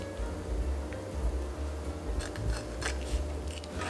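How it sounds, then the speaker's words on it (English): Shrimp are cut in half for an udon salad, giving a few quiet snips and crisp clicks over a low, steady background hum, with no talking. "I'll cut the shrimp in half"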